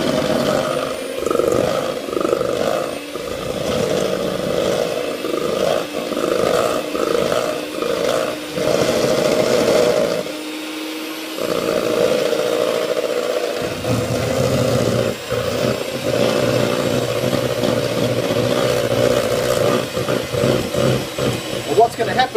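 A Cambrook electric beater whisks a mixture with a steady motor whine that drops out briefly partway through, while a voice talks over it.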